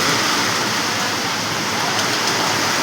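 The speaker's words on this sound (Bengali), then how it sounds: "বৃষ্টি কিন্তু খুব ভালো হচ্ছে" Heavy rain pours steadily in Garia, Kolkata, as a loud, dense, unbroken hiss that fills the whole stretch without pause.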